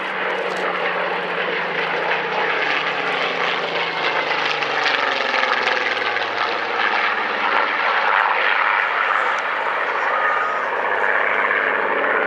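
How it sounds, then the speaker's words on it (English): Engine of a Hawker Hurricane fighter in South East Asia Command colours at the Dunsfold Wings & Wheels 2014 airshow, a steady, loud, broad drone that holds for the whole stretch with no talk over it. "The Hurricane that you see in front of you is embarked in the colours of Southeast Asia Command"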